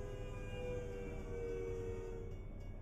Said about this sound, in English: See you later, train.